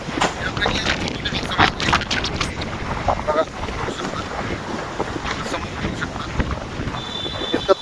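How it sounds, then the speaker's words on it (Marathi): Strong wind gusts behind a garage, buffeting the microphone with a constant loud rush and roar, while someone talks intermittently. "पण बघा तुम्ही आता इतकं वारं सुटलंय."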